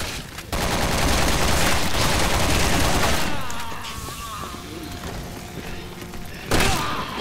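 Enemy machine guns in Resident Evil 6 rattle in dense, sustained bursts, loud and overlapping for several seconds, then easing into scattered shots and game noise before another sharp volley.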